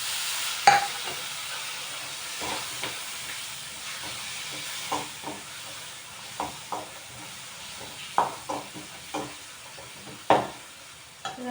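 Tomatoes frying in a pan as part of a village-style chicken kurma masala, with soft steady sizzling broken by irregular stirring knocks and clatters of a spoon against the pan, close and without talk.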